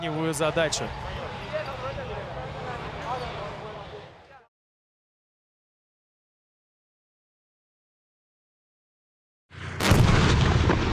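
A T-72B3 tank fires its main gun in a tank competition: a loud, broad blast bursts in after several seconds of silence, following a dense stretch of rumbling activity with commentary-like voices at the start.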